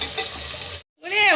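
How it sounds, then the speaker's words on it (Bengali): Onions frying in a pan for mutton curry, a steady close hiss of sizzling oil that briefly cuts out before resuming, with a voice over the later part. "এবার পেঁয়াজটাকে একটু লাল লাল করে ভাজবো।"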